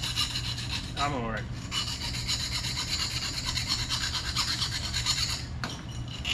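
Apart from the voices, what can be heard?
reaming inside of exhaust pipe, Dodge Challenger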